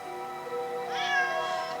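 A Sokoke forest cat meows once, a clear, drawn-out rising and falling call that stands alone against a steady harmonic background hum.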